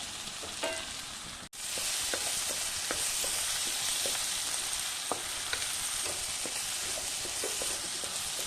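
Chilli butter paneer masala sizzles in a pan as it is stirred, a steady close frying hiss broken by regular scraping clicks of the spoon against the pan, with no speech.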